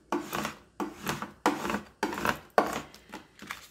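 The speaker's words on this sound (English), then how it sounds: "Pull off the backing from it and just stick it right on top there, and use a scraper" A scraper rubs vinyl transfer tape onto a dollar store blank in five or six short rhythmic scraping strokes, close and clear, with brief gaps between passes.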